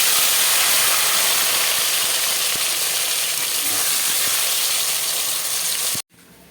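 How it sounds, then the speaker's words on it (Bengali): Giant taro pieces frying in leftover fish-frying oil in a wok give off a loud, steady, dense hiss and crackle with no talk, cutting off abruptly near the end. "এবারে নেব মানকচুটা হালকা করে ভেজে নেব।"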